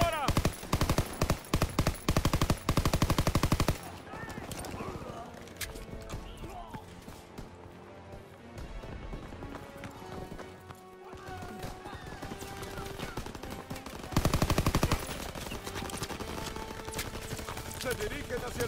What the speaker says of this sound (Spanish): ¡Usen esa ametralladora!